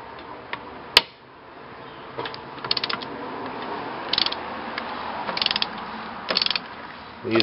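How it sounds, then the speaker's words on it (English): A big torque wrench ratchets while loosening the alternator bolts on a Ford Super Duty truck with a 220-amp alternator, giving scattered bursts of close metallic clicking after a single sharp snap near the start. "We got the big torque wrench."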